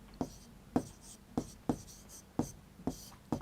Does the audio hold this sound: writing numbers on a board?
yes